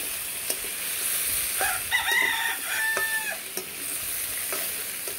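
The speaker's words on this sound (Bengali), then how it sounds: "লাল লাল করে একটু ভাজবো।" Raw banana and potato pieces fry in oil with a steady, bright sizzle, a few stirring taps on top, and a rooster crowing in the background partway through.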